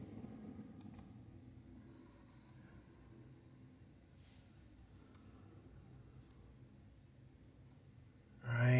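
A computer mouse clicks a few times, quiet and close, over a low background hum, while a USB WiFi adapter driver installs on a PC. Near the end a louder noise rises.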